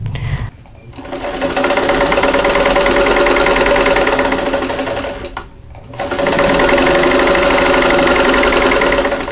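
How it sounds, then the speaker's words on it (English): A sewing machine stitches quilt block sections into rows for a Four Winds quilt block, a loud, close, steady motor drone with fast needle chatter, pausing briefly twice before running on. "I'm going to sew the first 2 sections of each row together."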